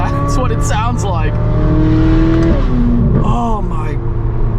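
A Chevrolet C8 Corvette Z06 fitted with a titanium race exhaust revs hard and loud, its pitch climbing and falling in sweeping rises, with someone talking over it.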